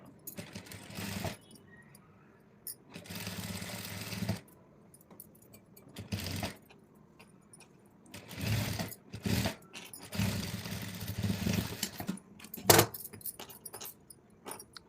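A tailoring sewing machine stitches cloth in several separate bursts, each running for one to two seconds with quiet gaps between them, and the sound is moderately close.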